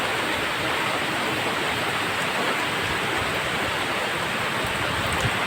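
Steady, dense rain pours down without a break, a loud unbroken hiss filling the space with no voices.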